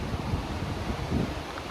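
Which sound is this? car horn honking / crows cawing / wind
wind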